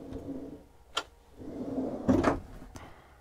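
A kitchen drawer in a Eura Mobil Integra 760 motorhome slides along its runner and shuts with a soft thud, preceded by a brief click, quiet and close by.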